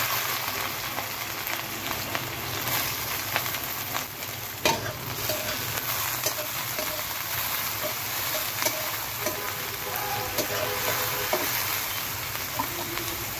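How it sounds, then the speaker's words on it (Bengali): Onion frying in hot oil and being stirred, with a steady, dense sizzle and frequent scraping strokes of a spoon against the pan, close and continuous throughout with no talk. "প্রথমে তেল দিয়ে দিলাম, তেলটা গরম হওয়ার পর পেঁয়াজ"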